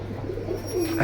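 Silver line pigeons coo at a market stall, a low murmuring coo running steadily through the short stretch and swelling louder near the end, with faint background voices.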